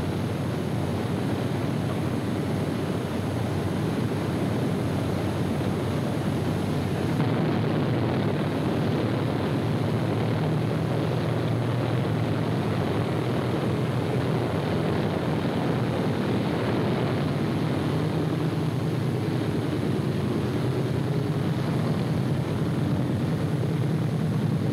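A steady, loud P-47 fighter propeller engine drones without pause throughout, a constant broadband roar of the aircraft in flight with no voices.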